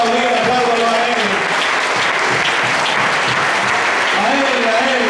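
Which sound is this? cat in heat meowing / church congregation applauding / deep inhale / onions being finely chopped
church congregation applauding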